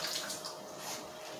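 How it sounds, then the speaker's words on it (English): Sweet peppers rinsed under a running kitchen tap, a steady soft stream of water splashing over them, faint and close, with no talking. "Got to wash them sweet pepper."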